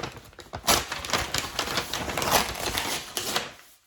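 Butcher paper torn by hand, a series of close, crisp ripping bursts that rise and fall over a few seconds before stopping.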